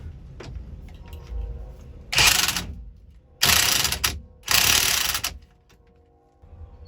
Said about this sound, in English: Now we just need to put the center nut on and get that torqued down.